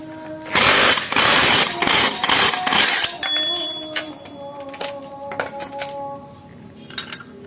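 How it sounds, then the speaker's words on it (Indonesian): An impact wrench with a 39 socket rattles loudly for about three seconds to remove a nut on a Honda PCX 160 clutch, followed by metallic clinks and ringing taps of parts being handled. "kemudian kita lepas semurnya menggunakan kunci 39. Kita gunakan impact."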